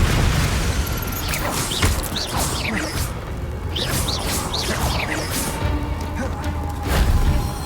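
A Confringo blasting spell is cast in the Hogwarts Legacy video game, producing a dense, continuous barrage of booming blasts and crashing impacts with whooshing bursts, loud and unbroken throughout.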